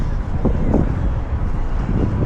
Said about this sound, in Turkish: Biraz rüzgarlı bile hatta.